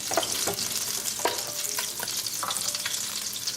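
Butter and oil tadka sizzling in a pan for a shrimp potato curry, with a continuous crackling fry and intermittent scraping stirs, close and fairly loud with no voices.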